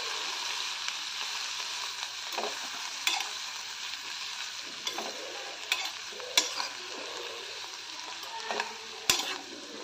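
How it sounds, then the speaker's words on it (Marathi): Broccoli, onion, ginger, garlic and potato sautéing in butter in a pan, giving a steady soft sizzle with scattered stirring scrapes and clicks throughout, and no voices. "पॅनमध्ये ब्रोकोली, कांदा, आलं, लसूण, बटाटा सर्व घालून 1-2 मिनिटं परतून घेते"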